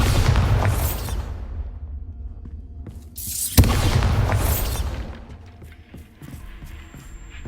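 A Bombarda spell blast in Hogwarts Legacy gives a loud booming explosion. A second sharp impact comes midway, then a softer rumbling and clattering tail.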